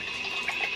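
Water runs steadily from a tap into a bucket for a brief moment at home, a soft continuous splashing hiss with no voices.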